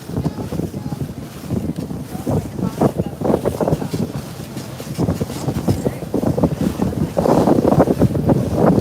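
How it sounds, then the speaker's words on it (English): Wind on a boat ride along the Lake Superior shoreline: loud, gusty rushing and buffeting across the microphone, with rumbling water and hull noise underneath, swelling stronger toward the end. "We're getting wind. We're getting turbulence here."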